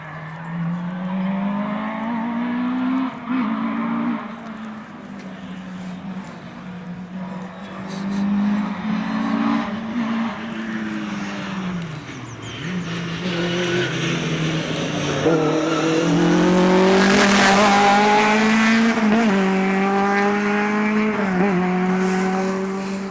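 A Vauxhall Corsa rally car drives through a stage, its engine rising and falling through gear changes and braking as it approaches, then screaming loud and close with tyre noise as it passes.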